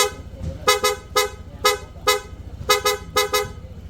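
A loud, close PIA horn on a Honda ADV160 scooter beeps in quick short toots, often in pairs, repeating rhythmically over a low engine idle.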